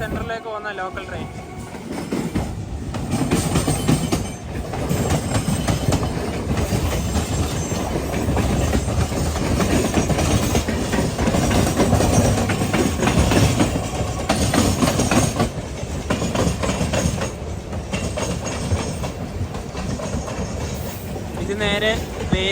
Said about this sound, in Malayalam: ചെന്നൈ സെൻട്രലിലേക്ക് പോകുന്ന ലോക്കൽ ട്രെയിൻ.